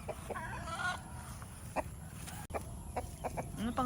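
A hen clucks repeatedly after laying an egg in a sack of sawdust on a Philippine island farm, with short squawks and cackles in an irregular rhythm over steady outdoor background noise.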